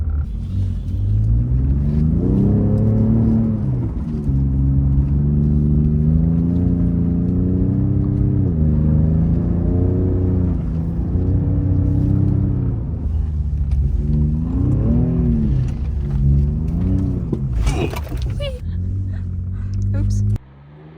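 A Ford Raptor pickup's engine drones and revs steadily while driving through snow, its pitch rising and falling in waves, with a voice talking over it for most of the stretch.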